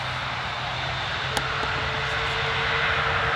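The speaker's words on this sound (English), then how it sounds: "Sounds like it's taken off, so I think it is going" An Airbus A380 jet takes off at Manchester Airport, its engines producing a broad, steady roar heard from a distance, loud and continuous throughout with no voices.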